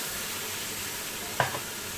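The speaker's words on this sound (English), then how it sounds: "now I'm going to add the mince, the chopped tomatoes and the stock" Mince, chopped tomatoes and stock for a Christmas festive spaghetti sauce go into a hot pan, a steady close sizzle with one sharp clunk and splash as the ingredients land, followed by continued frying hiss.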